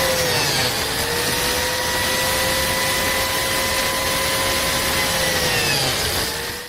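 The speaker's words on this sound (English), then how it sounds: "Now let's cut some biscuit slots." A biscuit joiner cuts biscuit slots in wood for a fence section, giving a steady, loud, close motor whine that runs without a break and dips slightly in pitch near the end.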